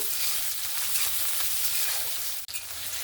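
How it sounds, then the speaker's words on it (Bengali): Chopped onion and tomato fry in a pan for a spicy sea fish curry, a close, even, continuous sizzle with faint stirring and one brief dip in sound. "টমেটো আর পেঁয়াজটাকে ভালো করে একটু ভেজে নিয়েছি।"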